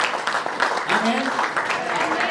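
Congregation applause in a church service, many hands clapping in a steady dense patter, with a voice speaking over the clapping.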